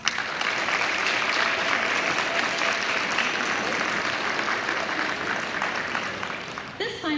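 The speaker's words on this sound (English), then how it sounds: "So students, can we please give our parents a round of applause?" Audience applause at a middle school spring concert, sustained clapping filling the room steadily for several seconds before tapering off near the end.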